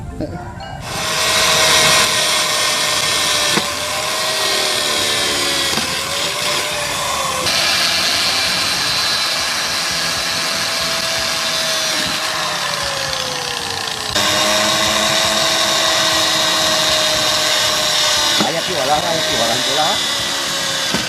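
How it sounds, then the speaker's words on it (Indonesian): A power drill whirs steadily and loudly up close, its pitch dipping as it bores into material, running almost continuously. "Langsung aja kita bor lah."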